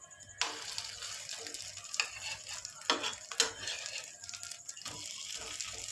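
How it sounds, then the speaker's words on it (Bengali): Bottle gourd fritters fry quietly in a little oil, a soft sizzle broken by sharp clinks and scrapes of a utensil as the fritters are turned. "এরপর ভাজার পালা।"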